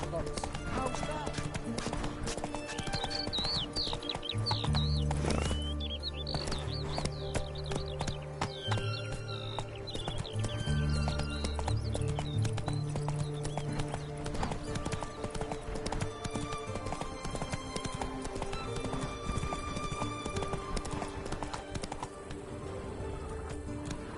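Roach the horse gallops in The Witcher 3 on PS4, steady clip-clop hoofbeats running throughout beside game music, with occasional speech and brief neighs.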